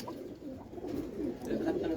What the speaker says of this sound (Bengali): এটা হইতাছে টুর্নামেন্ট ব্যাক কবুতর নর কবুতর নর কবুতর